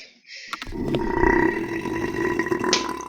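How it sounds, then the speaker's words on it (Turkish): A Roblox character lets out one long, loud, rumbling burp in a video game, close and sustained for over two seconds after a brief click, with no talking. "Karakter geğirdi."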